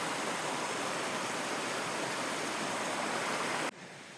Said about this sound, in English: that doesn't look like a lot of water, does it? For how big of a waterfall it is